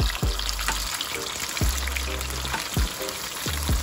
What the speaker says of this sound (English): And I'm holding it this way because the oil is kind of high.